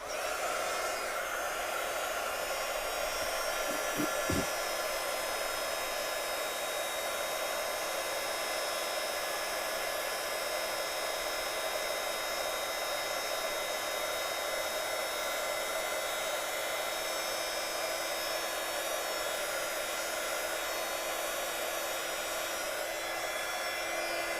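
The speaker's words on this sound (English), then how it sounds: "I love heat embossing." A continuous steady whooshing hum of a heat gun blowing hot air, loud and unchanging throughout, with a brief faint clicking near the start.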